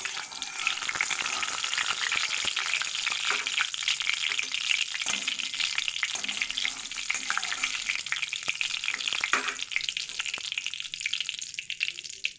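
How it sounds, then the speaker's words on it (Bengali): Cumin seeds frying in hot mustard oil in a pan on a gas stove, a steady, close, crackling sizzle with occasional scraping stirs of a spatula, continuous throughout with no talking. "এবার সরিষার তেল দিয়ে দেবো জিরে দিয়ে দেবো জিরে দিয়ে ভালো করে নাড়াচাড়া করে নেবো"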